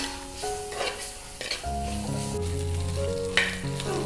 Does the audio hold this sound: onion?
yes